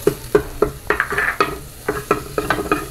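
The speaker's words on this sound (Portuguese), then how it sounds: "Vou misturar e deixar refogar também." A spoon stirs and scrapes through onion and homemade seasoning sautéing in a pan for gizzards, with about ten sharp, rhythmic clacks over a low, steady sizzle.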